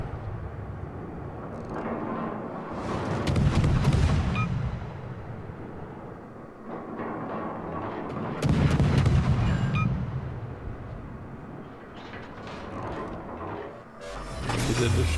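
Heavy naval guns boom in World of Warships from the Västerås, a tier-6 Pan-European destroyer: two loud, rumbling salvos several seconds apart with mechanical clatter and battle noise between them.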